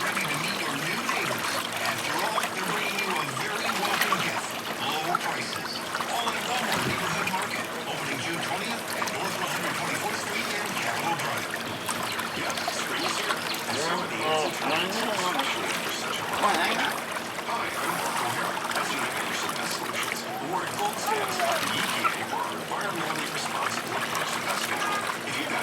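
Continuous bubbling and splashing water, close and lively, with voices talking over it now and then.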